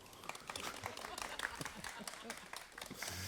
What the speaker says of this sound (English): Okay, I'll take the round of applause now.